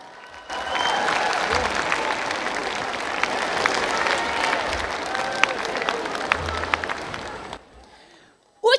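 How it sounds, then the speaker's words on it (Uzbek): Audience applause at a stand-up comedy concert: a dense, steady roar of clapping from a large crowd, sustained for about seven seconds before fading out. "Qarsak, chappak, gulduros qarsak bor. Bugun qaysi biri chalinyapti?"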